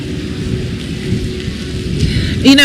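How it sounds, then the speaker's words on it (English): Wind-driven rain from a tropical storm pours steadily along a Mississippi highway, a loud continuous wash of downpour and gusts close to the microphone with no talking. "the wind-driven rain. That's exactly what it is out here"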